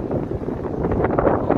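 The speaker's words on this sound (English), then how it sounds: "It's windy," Wind gusting along the Ocean City, Maryland boardwalk on a chilly, drizzly October day, a steady broadband rush buffeting the microphone with no voices.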